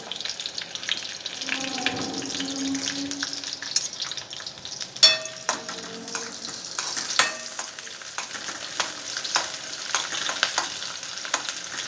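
Chopped onion and grated coconut fry in hot oil, with garlic going in, for a brinjal rassa: a steady close sizzle broken by spoon scrapes and a few sharp clinks against the pan.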